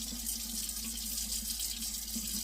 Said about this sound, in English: I'm giving them a little rinse